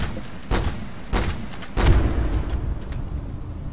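Three heavy, booming shots spaced about half a second apart fire in the colony game Rimworld, each followed by a rumbling decay, with the last one the loudest and longest.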